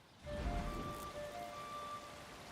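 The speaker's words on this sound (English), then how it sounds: "And now it's raining." Rain summoned by the Song of Storms shout in Skyrim, a soft broadband hiss of falling rain with a low rumble near the start, under faint tonal game music.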